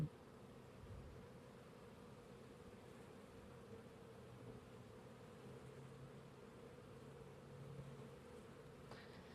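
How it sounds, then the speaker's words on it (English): A thick honeybee swarm drones in a steady, dense buzz close by, holding even throughout with no voices over it. "Pretty nice size swarm. They're just so thick on here."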